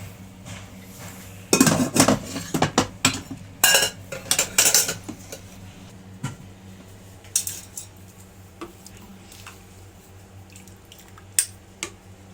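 A ladle scrapes and clinks against a metal pot while scooping tomato stew sauce at a home stove, with a flurry of loud clatters early on followed by sparser, softer knocks and drips.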